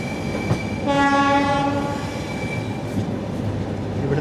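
The 12431 Trivandrum–Hazrat Nizamuddin Rajdhani Express rolls into a station and sounds a loud sustained horn blast, followed by steady rumbling and clattering of wheels on track as the train passes close by.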